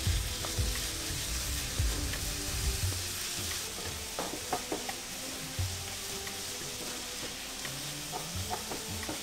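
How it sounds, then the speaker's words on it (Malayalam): Onions fry in ghee for chicken chukka, a soft continuous sizzle close by, broken by occasional light knocks and scrapes of a spoon stirring the pan; no talking. "ഇനി ഈ ഉള്ളി നല്ലൊരു ഗോൾഡൻ ബ്രൗൺ കളറാകുന്നവരെ നമുക്ക് ഒന്ന് ഇളക്കി കൊടുക്കാം."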